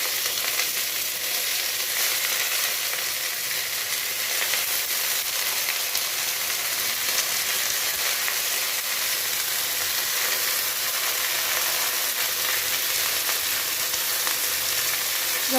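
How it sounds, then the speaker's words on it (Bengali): Jute leaves fry in oil with browned onion, garlic, turmeric and salt, producing a steady, even hiss and sizzle that holds unbroken for the whole stretch, close and without any voices. "তো এইভাবে এখন ভাজা ভাজা করতে হবে"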